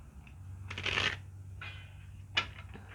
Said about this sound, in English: it would have been nice to give it like another shuffle